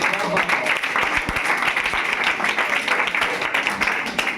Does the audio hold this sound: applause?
yes